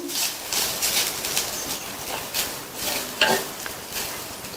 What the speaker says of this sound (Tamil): இந்த நெய் உருகுனதும் இதுல எடுத்து வச்ச தேங்காய் துருவலை சேர்த்துட்டு வாசனை வர வரையும் 2-3 நிமிஷத்துக்கு வதக்கிக்கங்க